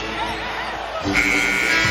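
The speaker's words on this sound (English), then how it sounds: "To beat the buzzer in the 3rd quarter." A basketball game buzzer ends the third quarter of an NBA game, sounding as a loud sustained electronic tone over arena crowd noise and commentator talk.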